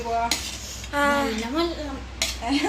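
Food and masala are stirred together in a pan, the spoon clinking against the metal in short scrapes while a voice talks over the mixing.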